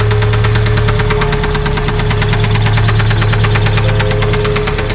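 A 1993 Toyota pickup truck engine idles roughly close by, with a fast, steady knocking pulse throughout and a loud, rattling tone.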